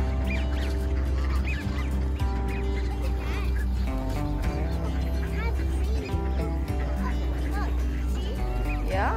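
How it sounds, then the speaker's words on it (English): Ducks and geese at Esquimalt Lagoon, a dense chorus of honking and quacking close by over a steady low rumble, with people talking among the birds. "All the different ducks here."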